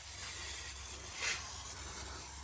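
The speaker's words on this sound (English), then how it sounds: "So I just spray it over everything." A steady aerosol tyre shine spray hisses continuously, with a brief louder burst midway, close to the listener.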